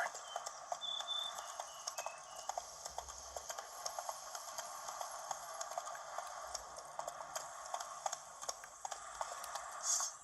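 Roach the horse gallops in The Witcher 3, a quick, even clip-clop of hooves kept up throughout, faint and steady over soft ambient noise.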